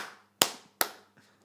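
Two sharp, isolated hand claps spaced evenly apart, each ringing briefly in a church hall during a demonstration, followed by a third fainter clap, with no talk over them.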